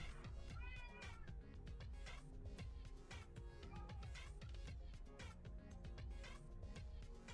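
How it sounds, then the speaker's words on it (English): A pet cat meows while being petted, with quiet, close mews and soft chirps repeating through a busy, faint background. "Sorry, I was petting my cat."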